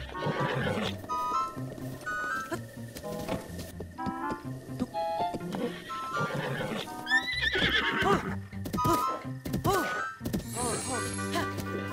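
Several horses neigh and whinny repeatedly over a busy Zelda video game soundscape with hoofbeats and scattered clatter, loud and close.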